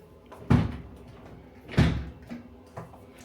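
Hotel bathroom double doors at a Hilton in Fort Lauderdale rolling and knocking on their track, two distinct bumps a second apart followed by lighter rattles, nearby in a quiet room.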